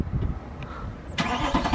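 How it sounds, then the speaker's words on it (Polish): The engine of a 457 hp Mercedes-AMG C63 grumbles at idle, then flares suddenly into a louder, sharper rev as the gas pedal is pressed. "Ten dźwięk przy wciśnięciu pedału gazu."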